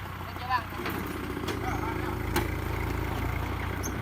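A farm tractor idles and chugs with a steady low engine rumble while towing another tractor and trailer, with people talking over it.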